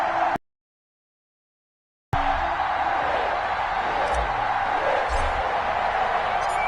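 An NFL stadium crowd before the New England Patriots play the Cincinnati Bengals gives off a dense, steady roar. It swells loudly after a brief silent gap and holds as a continuous wash of massed cheering.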